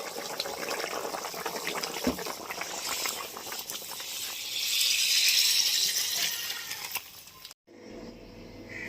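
Magur fish curry with potatoes simmering in a pot, a steady close bubbling hiss that swells louder midway, then cuts off abruptly near the end.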